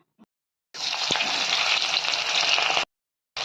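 Panch phoron, dry chili and onion hit hot oil in a pan with a sudden loud sizzle that holds steady for about two seconds, close up, then stops abruptly.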